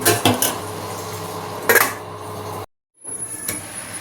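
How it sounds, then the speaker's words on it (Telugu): A metal lid is set on a cooking pot of egg gongura curry: a couple of sharp clanks and rattles of metal on metal, close and loud, followed by a brief silence and a lighter clink. "మూత పెడితే త్వరగా మొగ్గుతుంది మూత పెడతానండి"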